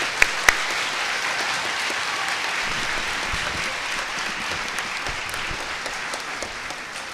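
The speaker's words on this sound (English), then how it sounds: "parents, please give all these kids a round of applause" Parents applaud a school children's chorus of fourth and fifth graders, a steady, dense wash of clapping from a large seated crowd that holds evenly for the whole stretch, with a couple of sharp louder claps near the start.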